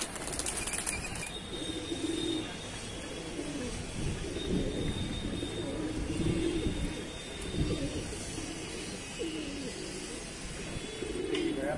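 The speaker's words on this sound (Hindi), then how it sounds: "हमारे जाल पे आगे कबूतर बैठा है" A sick pigeon caught in a net flaps and flutters its wings in bursts against a steady background hum, with faint cooing-like calls scattered throughout.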